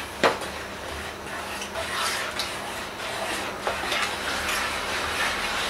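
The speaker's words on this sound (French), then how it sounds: "Donc je vais venir mélanger." A spoon stirs melted chocolate and butter in a bowl for a brownie batter, giving soft, continuous scraping and rubbing with a few light clinks against the bowl, close and fairly quiet with no talk.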